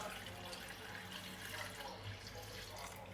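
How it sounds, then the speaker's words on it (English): Pineapple ginger water pours steadily into a container, a soft continuous trickling splash heard faintly and alone. "I'm going to pour some of the pineapple water"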